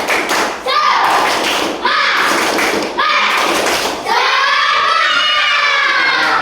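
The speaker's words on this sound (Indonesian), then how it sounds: "Tepuk semangat lagi ya." A group of children claps a rhythmic patterned spirit clap in a classroom in short bursts, with voices shouting along between and during the claps, loud and close.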